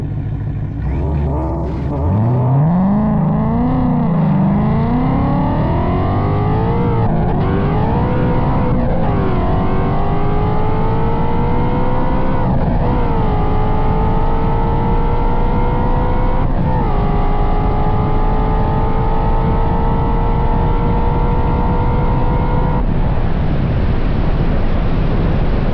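A Whipple-supercharged Ford Mustang S650 launches hard on an airstrip drag race, the engine rising through several loud revving pulls with brief dips at gear changes, heavy wind rush sweeping over the microphone throughout.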